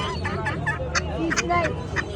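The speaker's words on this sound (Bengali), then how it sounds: "এই পাখিগুলা কার এগুলা কি মুরগি কি মুরগি তিতি মুরগি" Guinea fowl at a rural market give harsh, rapid honking calls in short repeated bursts, close by, over faint background crowd murmur.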